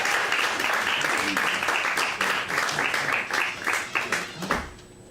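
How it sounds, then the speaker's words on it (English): Applause from an audience at a poetry reading for the poet Matt fills the room and then tapers into scattered, separate claps before it dies away. "One more round of applause for Matt, please."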